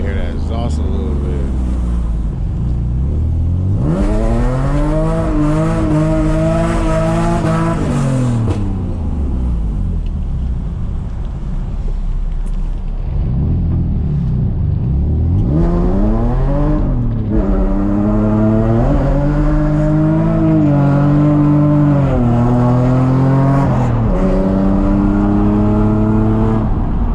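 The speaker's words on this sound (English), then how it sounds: "I want to hear that exhaust a little bit." A street drift car's exhaust revs loudly and repeatedly, engine pitch sweeping up and down in surging pulls, with people talking and shouting over it.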